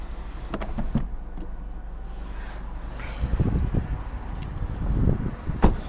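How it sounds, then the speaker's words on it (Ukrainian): Panoramic sunroof of a 2007 Mercedes-Benz B200 opening, a soft electric motor whir with a few clicks and thumps near the start, then the mechanism moving and settling with louder low knocks toward the end, heard from inside the car. "Отак от відкривається. Дуже грамотно зроблено, панорамний дах не протікає."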